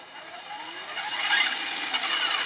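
The brushed electric motor of an RC Donkey Kong go-kart, converted to run on a LiPo battery, whirs up in a rising high-pitched whine that grows louder over a couple of seconds, heard close and alone.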